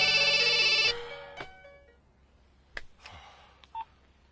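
A phone call is being placed: a rapid run of dialing tones, then a few short electronic rings with pauses between them, all fairly clear and unaccompanied by speech.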